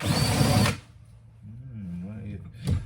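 A power drill removes screws during the restoration of a 1980s 17.5-foot Campion Sunbridge hard top boat: a loud, close whir at the start, then a quieter stretch with a voice talking, then a short second burst at the end.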